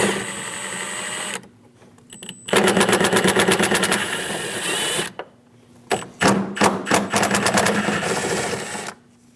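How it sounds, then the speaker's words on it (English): A 10mm socket tool backing out radiator fan shroud screws on a 2003-2026 Chevrolet Express 2500 4.8L, two long loud bursts of rapid rattling clicks separated by short quiet gaps, close up with no speech. "Using a 10mm socket, we're going to reach down and get the 3 screws on each side of the shroud."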